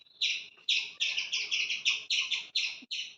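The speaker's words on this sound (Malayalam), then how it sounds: "എൻ്റെ ഒച്ച കൂടാണ്ട് ഒരു കിളിക്കൊഞ്ചൽ കേൾക്കുന്നുണ്ടോ?" Small birds in a natural outdoor setting give a quick run of bright, high chirps, about ten short notes in an uneven rhythm, clear and fairly close against a quiet background, with no voices.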